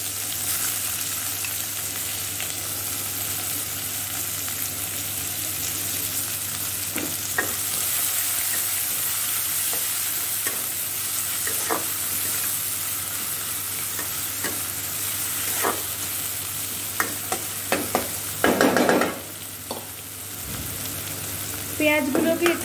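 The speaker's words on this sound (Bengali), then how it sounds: "এবারে আমি এর মধ্যে দিয়ে দেব পেঁয়াজ কুচি।" Chopped onion fries in hot oil in a pan for Bengali vetki fish kalia, a continuous sizzling hiss with repeated clattering stirs and scrapes throughout.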